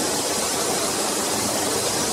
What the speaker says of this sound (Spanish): el sonido del agua este lo que hace es aislarnos de los sonidos de fuera